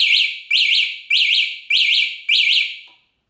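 A motorcycle anti-theft alarm, triggered by moving the bike, chirps loud and shrill in five rapid bursts, each a pair of high whooping tones, then cuts off.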